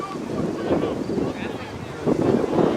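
Wind gusting across an outdoor soccer field during a high school match, a steady loud rush buffeting the microphone throughout, with faint voices mixed underneath.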